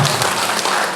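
Church congregation applauding during a Sunday worship service, a dense, loud wash of clapping filling the brief moment.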